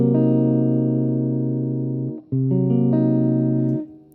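A jazz guitar sounds a half-diminished 7th chord with a flatted fifth, strummed three times in succession: a long sustained ring, a brief gap, then two more strums that ring clearly with no voices.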